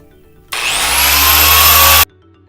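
A dual action polisher buffs a motorcycle fuel tank, whirring loudly and steadily for about a second and a half, starting and stopping abruptly, close up with no speech.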